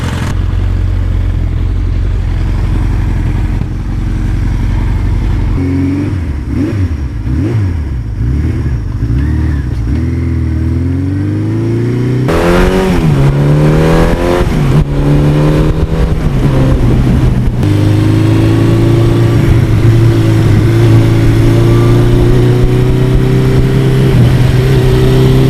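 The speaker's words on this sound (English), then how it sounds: "Even at idle, I love the sound of this bike." A 1982 Suzuki GS1100E motorcycle engine idles with a steady low throb, then revs repeatedly in rising and falling sweeps before settling into a higher, sustained run. It is loud and close, with no talking.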